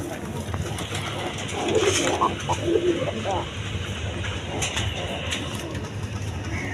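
Healthy pet pigeons coo in low, throaty repeated calls close by, with someone talking over them and a steady background hum.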